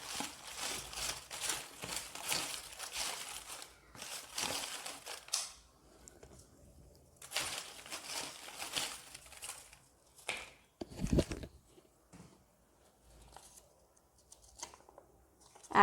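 Handmade tarot cards being handled and shuffled, heard as close, papery rustling and flicking in uneven bursts, with quieter pauses between bursts and no talk.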